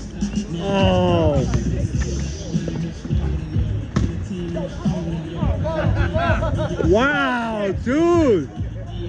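Spectators at an outdoor street basketball game in Crowley Park, 57th Ave, react with a hubbub of shouts and chatter over a bouncing ball, with individual voices rising loudly near the end.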